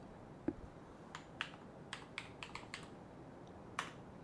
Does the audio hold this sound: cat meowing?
no